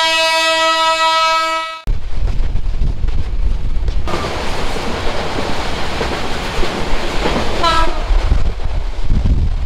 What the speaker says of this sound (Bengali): এই ছিল আমাদের ট্রেন যেটা আমি যেটা দিয়ে আমি বুড়িমারি থেকে এই লালমনিরহাটে আসলাম